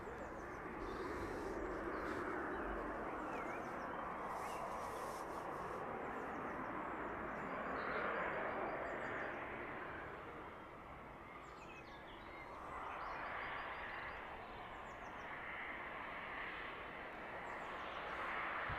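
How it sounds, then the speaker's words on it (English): Distant airliner reverse thrust rumbling at an airport, with a Challenger business jet droning further off; a faint, steady broadband roar swelling and easing, with birds calling lightly over it. "Just hear the reverse thrusters and that Challenger in the distance there."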